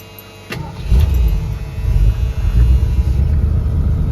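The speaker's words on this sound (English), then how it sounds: "let's crank this up and see how it's idling" A 1979 Ford F-150 SuperCab pickup engine, recently revived after 12 years, cranks over and catches, settling into a steady, loud low rumble.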